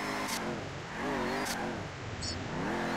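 A car drives during a film shoot, its engine rising and falling as it accelerates, loud and close, with brief sharp bursts of other noise and no talking.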